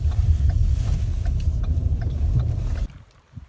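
A car rolls slowly over gravel as it pulls in to park, with a low engine rumble and crunching tire noise that stops abruptly, leaving near quiet.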